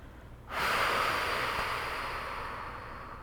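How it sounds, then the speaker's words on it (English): A long, deep exhale blown out through the mouth during a bedtime yoga breathing exercise, a steady breathy rush that starts abruptly and slowly fades, close and alone. "blow out a big candle on your exhale"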